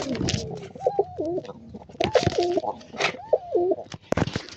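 Pigeons cooing close by in repeated rolling phrases, three clear coos spaced about a second apart, mixed with faint rustling and small background noises.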